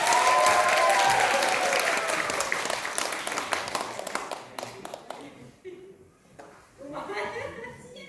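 Applause from an audience at a church-organized Korean speaking contest for migrants, dense clapping and light laughter that gradually thins out and fades, leaving a few scattered claps and a voice near the end.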